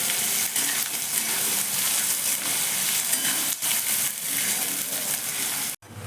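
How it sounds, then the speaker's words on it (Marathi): Chopped onion sautéing in a hot pan with oil and bay leaf, a dense steady sizzle that runs loud and close throughout, briefly dipping near the end. "आणि यामध्ये कांदा टाकूयात. आणि याला छान असं परतून घेऊयात."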